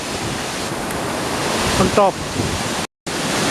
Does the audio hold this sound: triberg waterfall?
yes